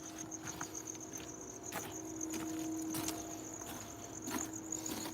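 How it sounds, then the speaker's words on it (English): Crickets chirp steadily through a night outdoors, a dense, continuous high trilling with a few faint knocks and rustles underneath, no voices. "Do you guys hear all those crickets?"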